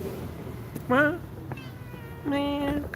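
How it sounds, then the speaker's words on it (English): White street cat in Istanbul giving two distinct meows, one short and one longer drawn-out call, fairly close but modest in level over a low outdoor background hum. "This is the first time I see a white street cat here in Istanbul."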